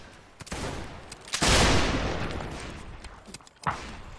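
Musket gunshots in the video game Mount & Blade North and South, with a few sharp reports and one loud booming volley that trails off, then a later distinct shot.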